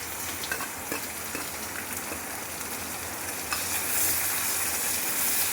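Chopped onion and garlic frying in oil with bay leaf and five-spice tempering, a steady close sizzle with occasional spoon scrapes, swelling louder near the end.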